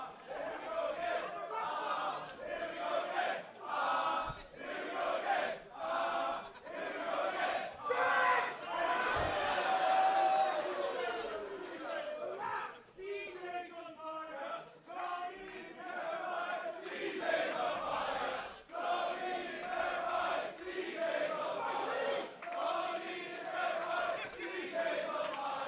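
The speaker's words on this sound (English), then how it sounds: "I think this crowd has chosen who they're going to get behind in this." A wrestling match crowd roars in rhythmic waves of cheering and shouting, rising and falling in repeated chant-like bursts, with loud swells around the middle and no clear single voice above the din.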